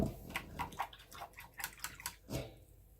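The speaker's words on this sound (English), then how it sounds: "I just rinsed off the brush" A paintbrush is swished and rinsed in a water cup, several quick sloshing splashes with little drips, close and fairly quiet over about three seconds.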